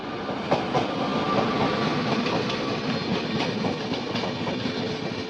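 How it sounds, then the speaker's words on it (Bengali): The Puri–Sealdah Duronto Express runs by with a loud, steady rumble and a continuous rhythmic clickety-clack of wheels over rail joints, no voices. "এটা পুরী শিয়ালদা দুরন্ত এক্সপ্রেস, যেটা পুরী থেকে আসছে শিয়ালদার দিকে যাচ্ছে এখন"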